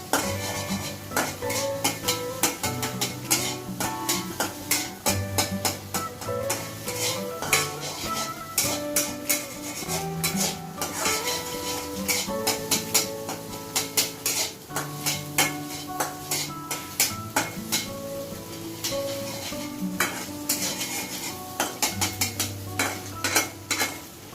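Eggs are stirred and scrambled in a frying pan for homemade restaurant-style fried rice, with a spatula scraping and tapping the pan in quick irregular strokes over a soft sizzle, no voices.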